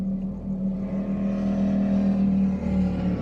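A car engine hums steadily from inside the cabin and swells gently as it builds revs. The tone stays a loud, continuous drone with no voices heard.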